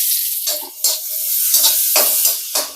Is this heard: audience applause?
no